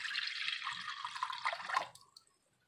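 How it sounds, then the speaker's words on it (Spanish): Water poured from a container into a deep pot for caramel-apple syrup, a steady splashing, bubbling stream that tapers off and stops near the end, moderately faint and heard alone. "Ahí voy con el agua."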